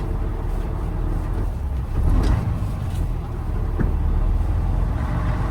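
A car engine runs steadily under load during a behind-the-wheel road test while the driver double-clutches and downshifts manually, the engine note rising briefly around the gear change and a low road rumble continuing beneath, with no talk.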